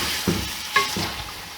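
Paye (goat trotters) stirred and sautéed in a pot, a low steady sizzle broken by a few scraping stirs of a spoon against the metal, close by with no talk.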